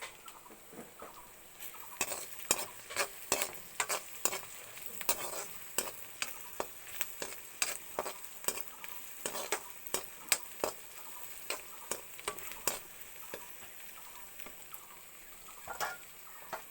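Food sizzles steadily as it fries in a pan, with a constant hiss broken by frequent sharp crackles and pops in an uneven rhythm, close and fairly quiet, with no talking.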